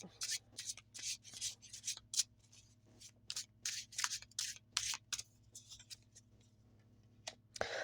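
Tarot cards are shuffled by hand in rapid, papery riffles and slides, close and crisp, coming in irregular bursts with short gaps between them.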